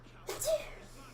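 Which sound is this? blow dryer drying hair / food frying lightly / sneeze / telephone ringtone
sneeze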